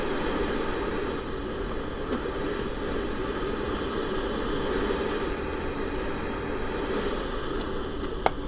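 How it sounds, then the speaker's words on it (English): Steam hissing in the video game Amnesia, a constant broad hiss holding evenly throughout at moderate level with no speech. "Watch out for that steam."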